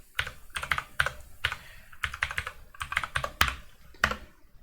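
Close, steady keystrokes on a computer keyboard as a mkdir command is typed, clicks falling in quick uneven bursts with short pauses, alone with no talk.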